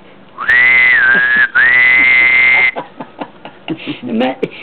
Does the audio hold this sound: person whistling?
yes